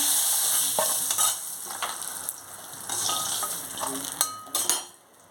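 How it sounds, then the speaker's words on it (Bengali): Pointed gourds fry in hot oil while a spatula stirs and lifts them out, a steady sizzle broken by scraping and clinking of metal against the pan, close up and without talk. "দেখুন পটলগুলো ভাজা হয়ে গেছে তুলে নিচ্ছি"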